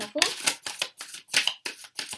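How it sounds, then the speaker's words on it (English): A tarot deck being shuffled by hand, a rapid series of crisp riffling bursts in an even rhythm, close and clear with no voice. "we're going to shuffle"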